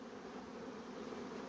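Honeybees making orientation flights around a newly formed colony near the hive give a dense, steady, even buzz, faint and continuous with no talking.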